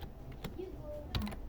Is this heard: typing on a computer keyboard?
yes